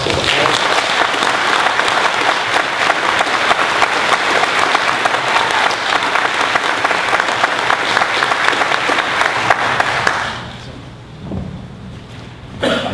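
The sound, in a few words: audience applause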